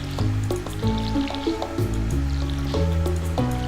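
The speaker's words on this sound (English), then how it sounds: "Just gonna water these bad boys." Plants being watered in the video game Stardew Valley: a string of bright, watery splashes and drip-like tones repeats in quick succession, loud and close, with no talking.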